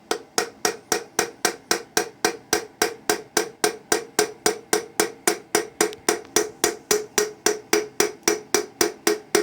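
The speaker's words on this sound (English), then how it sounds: "maybe use that hammer. Here, let me tap that a little bit." A hammer taps an engine piston in a fast, even rhythm, dozens of sharp ringing metal strikes repeated steadily throughout, close up.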